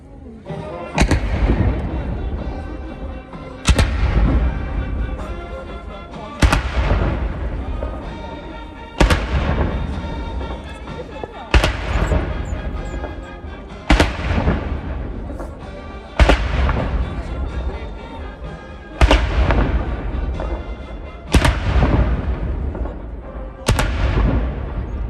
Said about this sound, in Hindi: 21 तोपों की सलामी दी जाएगी।